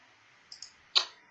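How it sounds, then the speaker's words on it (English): Three crisp computer mouse clicks sound close against a quiet room: two light taps in quick succession, then a sharper, louder click a moment later. "I am just clicking around here for a minute"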